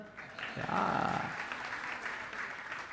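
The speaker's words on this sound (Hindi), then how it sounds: "अब बजाओ ताली" Listeners at a spiritual discourse give a short round of fairly faint, distant-sounding applause that swells briefly and then settles into a soft, steady patter.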